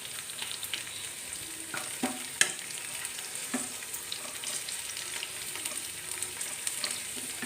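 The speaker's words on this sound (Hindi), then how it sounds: "और आपको तब तक इस तरह से पकाना है जब तक कि भिंडी थोड़ी सॉफ्ट ना हो जाए।" Okra frying in mustard oil with garlic, stirred in a pan, with steady sizzling and scattered scraping clicks of the spoon, one sharper knock near the middle; close and moderately loud, no talk.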